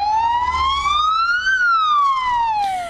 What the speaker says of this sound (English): In between the gunshots, this ambulance emerged